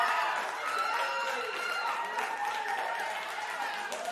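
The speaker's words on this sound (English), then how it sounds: "I was just waiting for the clapping to stop" A canned applause sound effect welcoming a guest onto a podcast, a steady wash of crowd clapping and cheering that runs on at moderate level and tapers off.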